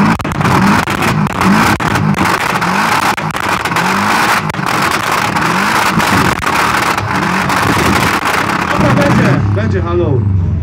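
A loud car exhaust revving continuously with rising and falling engine pitch, close up, then cutting off abruptly near the end, at a motoring festival in Rzeszów.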